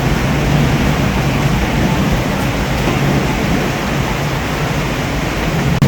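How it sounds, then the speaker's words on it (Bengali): Heavy rain pours down with strong wind, a loud, dense and unbroken roar of close hiss with no pauses and no voices. "এত বৃষ্টি হয়েছে, বাতাস ছিল অনেক, প্রচুর পরিমাণে বৃষ্টি।"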